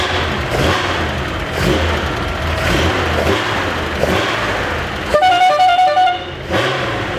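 Over a loud, steady engine rumble from a widebody Ferrari 458, a horn blares in a short burst near the end, close and prominent.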